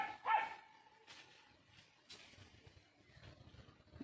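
A dog barks outdoors on a pineapple farm, a few sharp, fairly distant barks spaced across a quiet background, with no one speaking.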